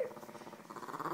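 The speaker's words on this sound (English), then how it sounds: "Listen to him bark" A puppy barks and growls in quick, yappy bursts, close and fairly loud across the short moment with no talk over it.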